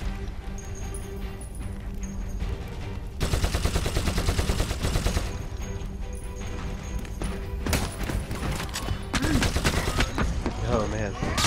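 Gunfire in the Warhammer Eternal Crusade video game, with sustained rapid bursts and volleys of shots that grow heavier partway through, while a voice talks over the battle.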